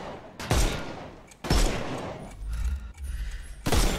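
Bursts of gunfire in a Sherlock Holmes video game, aimed at enemies' armour, coming as sharp loud volleys with short gaps between them.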